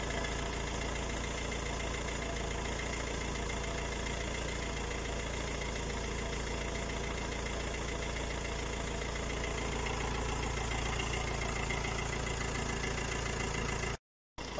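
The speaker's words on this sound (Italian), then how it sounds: "Avviamo il motore del veicolo." A car engine idles steadily with a low, constant rumble and slight vibration throughout during hydrogen engine decarbonization, cutting out briefly near the end.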